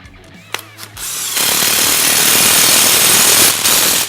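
A power tool tightening differential hardware on a Can-Am Maverick 1000R: a few short clicks and bursts, then a loud, steady impact-style buzz that holds for several seconds before a brief dip and resumes, up close.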